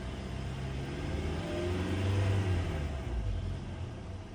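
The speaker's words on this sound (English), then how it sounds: "Show you some RPM, see what we get." A 2014–2018 Hyundai Sonata or Kia Optima with a flashing oil light is started and revved. The engine gives a steady, close rumbling drone that swells slightly in the middle and then settles, with no talking.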